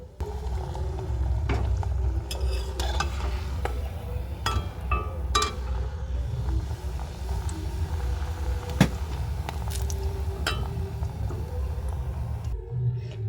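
Pumpkin and semolina puffs fry in hot oil with a steady, close sizzle while they are flipped, and a few sharp clinks and taps of utensil on pan break through.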